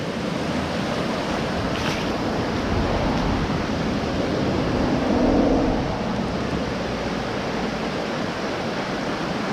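A mountain creek near Gatlinburg, Tennessee rushes downhill in a steady, dense roar of running water, loud and close with no pauses, and a little wind buffets the microphone.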